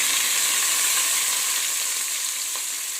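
Onions and curry leaves frying in oil in a pan, with a continuous, loud, close hiss and crackle and one faint tap near the end.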